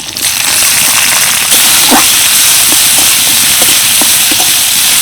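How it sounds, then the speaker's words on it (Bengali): Chopped onion hits hot oil in a wok already crackling with cumin and a dried chilli, giving a loud, steady frying hiss with scattered pops throughout, no talking. "ফোড়নটা হালকা ভাজা হয়ে গেছে এবার দিয়ে দিচ্ছি পেঁয়াজ কুচি"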